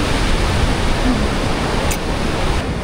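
Rough surf breaks steadily on a beach in Rio de Janeiro, a dense continuous roar of waves that fills the whole stretch, loud and close, with no talk.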